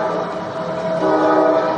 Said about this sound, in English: here comes the train that he tried to make sure didn't continue to run